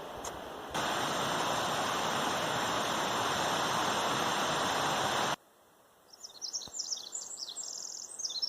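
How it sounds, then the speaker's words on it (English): A loud, steady rushing roar of a river in the Hoh rainforest fills most of the clip, then cuts out, leaving quiet birdsong chirping. "So it's fairly quiet, barring the white noise of the river down there"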